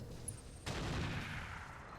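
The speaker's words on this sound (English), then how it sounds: "Oh, more artillery." Artillery fire in the RogueTech mech game, a sudden heavy blast breaking out of low rumbling and decaying into a broad roaring wash, moderately loud with no talk.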